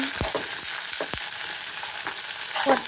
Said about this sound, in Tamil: வெங்காயம் லைட்டாக கொஞ்சம் கோல்டன் கலர் வர வரைக்கும் வறுக்கணும்